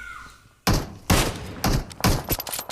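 Kar98 sniper rifle headshot in the PUBG video game: a sharp sudden crack after near-silence, then a few further loud thuds and impacts in quick succession, close and punchy.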